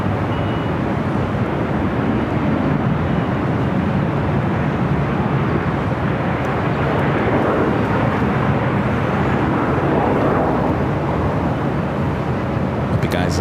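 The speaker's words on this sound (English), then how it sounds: "This Southwest flight heading to Albuquerque, New Mexico." Southwest Airlines Boeing 737-700, flight 212 to Albuquerque, taking off on runway 24 left at LAX, a loud, steady broadband engine roar that holds throughout with no talk.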